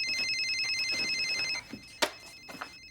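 A telephone ringtone rings in a drama scene set in a basement, a steady repeating electronic ring for about a second and a half, then stopping, followed by a few sharp soft knocks and rustles.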